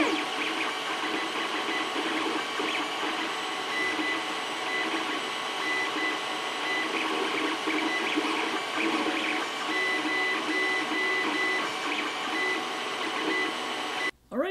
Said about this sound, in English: we'll print this thing on the printer